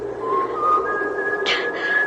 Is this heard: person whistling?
yes